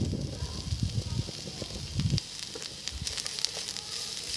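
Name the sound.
chopped onion frying in hot cooking oil in a pan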